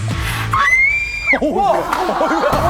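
A young woman lets out a loud, sustained scream, measured at about 96 decibels in a TV safety test. One rising shriek holds for close to a second and then breaks into shorter wavering cries, with crowd noise underneath.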